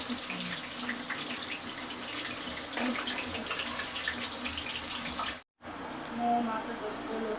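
A whole potato frying in oil on a home stove while chicken biryani is being made gives a steady close crackling sizzle that drops out briefly near the end, then resumes.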